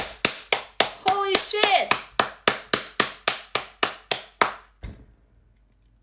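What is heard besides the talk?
clapping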